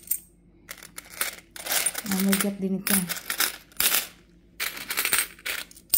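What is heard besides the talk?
coins being handled and dropped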